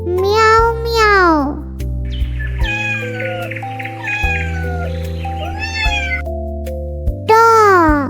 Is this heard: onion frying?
no